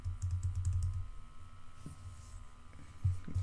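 Someone types a password on a computer keyboard: a quick, close run of key clicks, then a couple of isolated keystrokes over a low, steady electrical hum.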